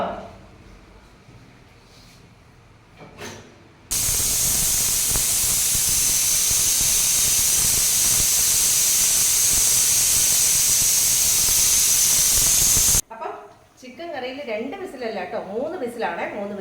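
A loud, steady hiss of steam escapes a pressure cooker for about nine seconds, cutting off abruptly, followed by faint kitchen sounds.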